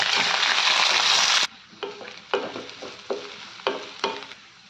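Chopped onions hit hot oil that already holds cumin, urad dal, mustard seeds, dried red chillies and curry leaves for a cabbage tomato curry. A loud hissing sizzle cuts off abruptly, then a series of spatula scrapes and stirs follows, roughly every half second.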